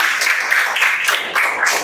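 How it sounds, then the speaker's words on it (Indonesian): Classroom of students clapping together for their classmates, a dense, steady burst of applause close by for about two seconds. "tepuk tangan dulu untuk semua"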